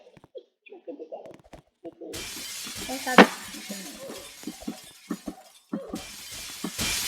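Glass panel of a glass bridge shattering, one sharp bright crack about a third of the way in, set against steady broadband rumble with people talking and laughing throughout.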